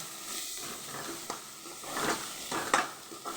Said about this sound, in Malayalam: ഇളക്കി ലേശം ഒരു കളർ മാറുന്നവരെ വറുക്കാം.